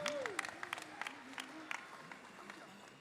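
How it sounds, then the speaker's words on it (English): A crowd applauds at the 2023 Gathering of Nations pow wow, with scattered claps and cheers under a speaking voice, moderately distant. "So let's give them a round of applause, everybody."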